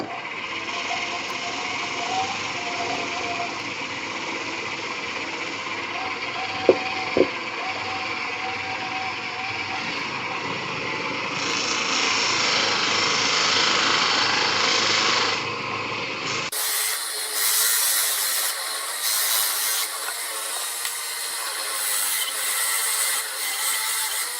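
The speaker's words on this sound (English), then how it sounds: "I'm going to switch to a buffing compound. This is just for buffing and polishing. Just going to charge the wheel." A spinning buffing wheel on a powered polisher is charged with buffing compound while a segmented bespoke fountain pen is being made, giving a steady whirring grind throughout that shifts to a brighter, harsher rub partway through, with no talk.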